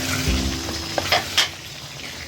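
Chicken pota kaleji fries in ghee with a spoonful of garam masala as it is stirred in a pan, giving a steady sizzle with a few soft scraping and tapping sounds from the spoon.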